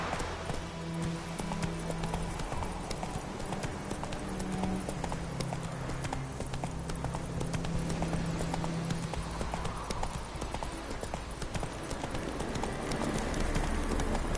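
A horse gallops steadily through The Witcher 3: Wild Hunt, its rapid rhythmic hoofbeats clip-clopping continuously and close, with low game ambience underneath and no talk.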